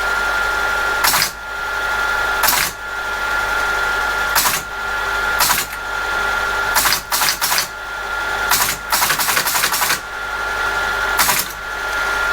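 A Teletype ASR33 teleprinter runs after power-up with a steady, loud mechanical hum and whir. Sharp bursts of clattering printing mechanism break in at irregular moments, several coming in quick clusters.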